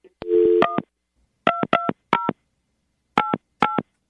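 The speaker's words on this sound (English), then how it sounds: "we're going to call her right now and see if we can get her on the phone" Touch-tone telephone keypad dialing before a call, a steady tone followed by seven separate clean beeps in irregular clusters, loud and isolated with silence between them.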